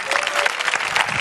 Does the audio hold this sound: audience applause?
yes